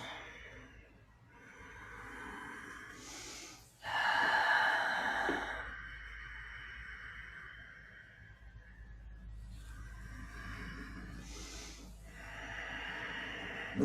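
Slow, deep breaths drawn in through the nose and released out through the mouth during a yoga session, several long audible inhales and sighing exhales spaced across a quiet, close setting.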